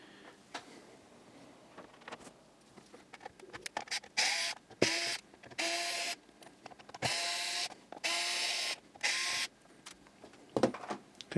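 Screws are backed out of a PS2 console case with an electric screwdriver, several short whirring bursts in a regular run separated by small clicks and handling taps, close and fairly quiet.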